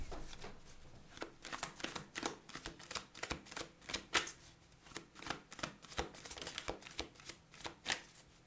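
Tarot cards are shuffled and drawn by hand, a steady run of crisp, close riffling clicks and flicks that rise and fall in bursts, with no voices.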